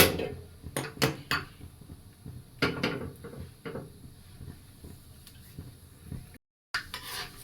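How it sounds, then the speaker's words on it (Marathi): Dry fruits stirred in a pan on a gas stove, with a string of sharp spoon scrapes and knocks against the metal at an uneven pace, loud and close, and no talk. "ड्रायफ्रुट्स सतत असे हलवायचे आहेत, नाही तर ते जळू शकतात"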